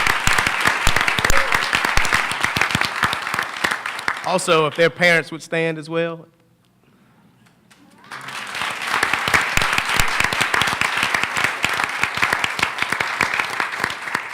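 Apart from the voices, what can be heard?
audience applause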